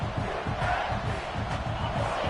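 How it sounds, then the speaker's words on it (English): A college football stadium crowd at a Clemson Tigers game roars with a full, continuous wall of cheering that stays loud and sustained throughout. "This crowd, full throat, splitting the eardrums"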